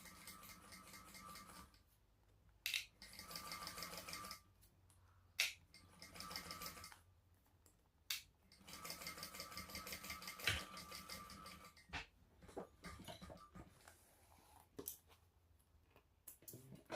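Sewing machine stitching a backpack corner, short bursts of rapid mechanical stitching separated by pauses, close and moderately loud.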